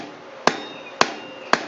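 Three sharp, evenly spaced rounding-hammer blows ring out on a steel horse-head bottle opener resting on an anvil, each strike bright and metallic with a short ringing decay, close and loud over faint room hum.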